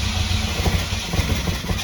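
An old Alfa Romeo car engine runs and revs roughly, giving a steady, close, loud mechanical rumble with uneven pulsing and no talk over it.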